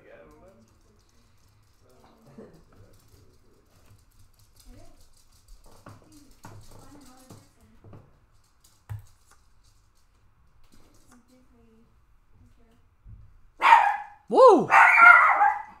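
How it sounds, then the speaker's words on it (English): Dogs bark excitedly near the end, in loud close bursts that break a long quiet stretch. Earlier there is soft, intermittent talking and a short cheer. "The dogs are going crazy."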